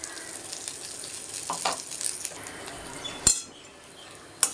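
Fresh coconut and a pinch of hing sautéing in a pan, a soft steady sizzle with occasional metal clinks of a utensil against the pan and two sharp taps near the end.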